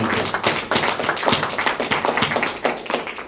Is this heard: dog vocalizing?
no